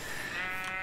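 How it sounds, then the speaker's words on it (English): A single video-game sheep bleats in a short, nasal, wavering call, close and clear with no talk over it. "Another pink sheep."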